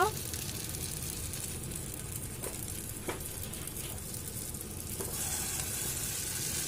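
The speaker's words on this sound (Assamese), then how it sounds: "তাৰপাছত আমি এটা এটাকৈ দিম তেলখিনিত" Wheat flour dough pieces dropped one by one into a small amount of hot oil, a steady soft sizzle of frying with faint clicks and light taps throughout.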